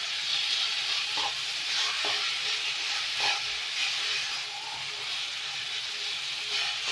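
Chicken tikka spaghetti sizzles in a pan over high heat, a steady close hiss of frying that stays even throughout, with a few faint clinks of stirring underneath.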